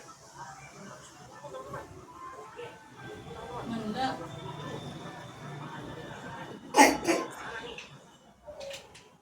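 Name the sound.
child coughing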